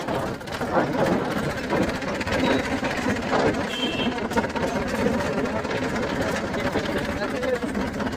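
A Massey tractor engine runs at a steady, even speed while turning in reverse, with a constant drone close by and voices over it.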